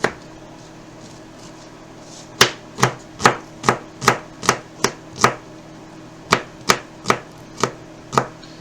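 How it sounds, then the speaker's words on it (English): Sharp, rhythmic knife chops through an onion on a cutting board, about a dozen quick strikes in steady succession after a brief quiet start, close and loud. "You see how recklessly I'm chopping this onion?"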